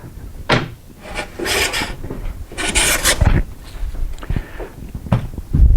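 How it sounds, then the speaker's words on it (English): A hand plane is pushed along timber on an antique workbench, giving several rasping, scraping strokes in an uneven rhythm with light knocks between them, close by. "that stops timber sliding around whilst I'm planing"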